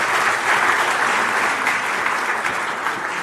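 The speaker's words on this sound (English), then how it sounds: "a big round of applause would be nice" Audience applause at a summit interview event, a dense, continuous burst of clapping filling the whole stretch, fairly loud and even with no voices over it.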